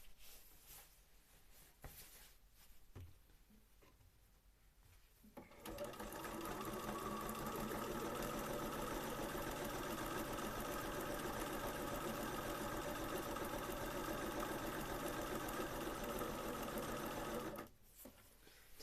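Sewing machine zigzag stitching Victorian skirt fabric, starting after a quiet stretch and running steadily at high speed for about twelve seconds before stopping, close and loud with a continuous whirring drone.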